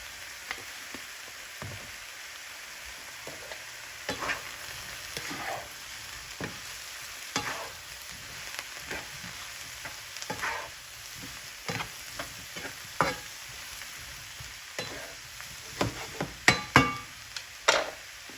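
Mushrooms fry in a pan with black pepper and garlic powder, giving a steady soft sizzle throughout, broken by occasional scrapes and stirring clicks close by.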